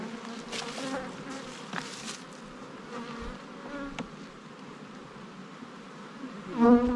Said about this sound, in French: dans chaque ruche, il y a combien d'abeilles?